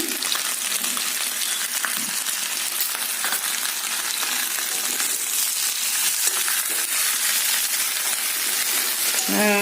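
Ground cumin, coriander and black pepper masala goes into a hot frying pan for chicken curry, giving a loud, steady sizzle with faint scraping and stirring throughout.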